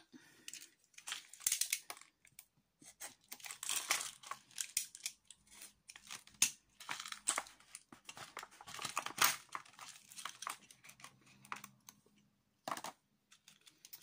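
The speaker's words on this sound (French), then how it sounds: "Alors attendez, on va en ouvrir une boîte." A box of beads is opened by hand, giving close crinkling, tearing and rustling of packaging with scattered clicks and crunches over about fourteen seconds, with no talk.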